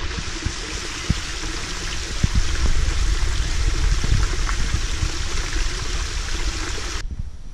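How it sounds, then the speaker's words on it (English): Steady rushing water flows continuously, a close, full burbling of a stream in Rio de Janeiro, Brazil, with small splashes throughout. "The sounds of the water, the animals, the life, beautiful."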